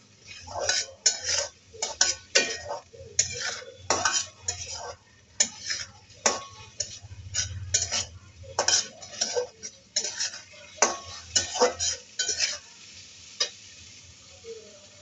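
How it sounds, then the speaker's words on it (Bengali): Rice with masoor and moong lentils is fried and stirred with spices in a pan for khichuri, producing a soft sizzle under a rhythmic series of sharp spoon clinks and scrapes, close and fairly loud; no speech. "চালগুলোকে কিছুক্ষণ ভেজে নিব মশলার সাথে কষিয়ে নিব চাল ডালগুলোকে একসাথে"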